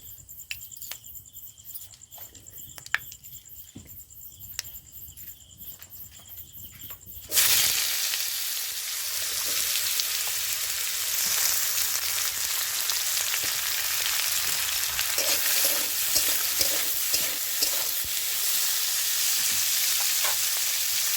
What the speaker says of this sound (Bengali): এই সব উপকরণ একসাথে আমি ভেজে নেব।